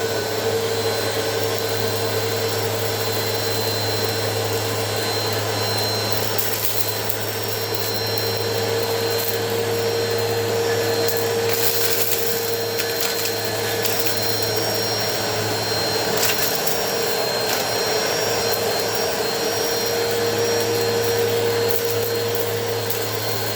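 A Bissell Powerforce Helix Turbo 2190 upright vacuum cleaner runs on a hard floor, a loud constant motor whine with a steady hum, sustained for over twenty seconds with slight surges as it moves.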